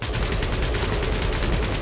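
Rapid gunfire aimed at the Guardians in Marvel's Guardians of the Galaxy rattles as a continuous, loud automatic burst of evenly spaced shots, steady and unbroken for the whole stretch.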